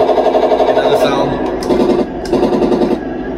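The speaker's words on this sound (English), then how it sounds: "So you can change the machine gun sound." Electronic machine gun sound effect from a Heng Long RC model of an IDF Merkava Mk IV tank, a rapid buzzing rattle of bursts playing continuously and loudly close to the microphone, with some voice present.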